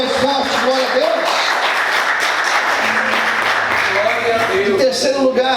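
Congregation applauding during a Portuguese-language church service, a steady wash of clapping lasting throughout with a voice and music-like tones sounding over it.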